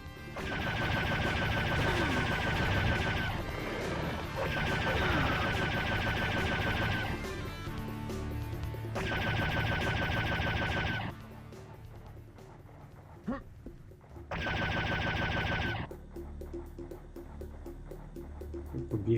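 Gunfire in the classic shooter Serious Sam Classic: The First Encounter, desert dunes level: dense, loud bursts of rapid weapon fire in several long blocks separated by short pauses, with game music and effects beneath.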